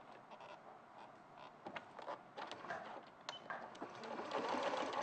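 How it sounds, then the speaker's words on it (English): Faint sewing machine stitching around the arm of a fabric teddy bear, a soft continuous whir with small clicks and knocks, steady throughout at low level with no speech. "So I'm going to sew from there around and up to the top of the arm."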